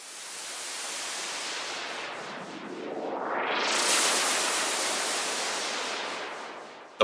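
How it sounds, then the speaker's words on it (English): Synthesized white noise sweep made in Ableton's Analog instrument, a wash of hiss that rises and brightens to a peak, then falls away, moderately loud and alone with no talking. "we'll add two white noise effects, a rising sound and a falling sound,"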